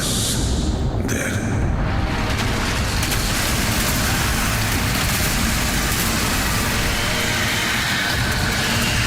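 Heavy rain in a dark sci-fi game trailer set in Fornax, a dense continuous hiss filling the scene, with a deep rumbling bed beneath and brief swells early on.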